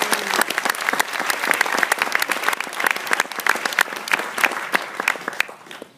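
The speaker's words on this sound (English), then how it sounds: "Please give them all a round of applause." An audience at a film screening and Q&A gives a lively round of applause, with crisp individual claps in a thick, sustained burst that thins out and fades right at the end.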